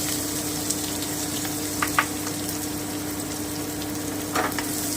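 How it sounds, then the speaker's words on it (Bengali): Chopped onions fry in a pan with a constant, moderate sizzle and hiss, broken by a few light clicks and stirring scrapes; no one speaks. "এবারে আমি কুচনো পেঁয়াজটা দিয়ে দিচ্ছি"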